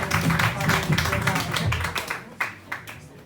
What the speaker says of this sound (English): Big round of applause for Elian